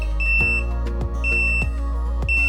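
A moisture sensor on a Seafrogs underwater camera housing for a Sony Alpha A7R III gives short electronic beeps that repeat in a regular pattern, sharp and close, over a steady low hum with faint clicks.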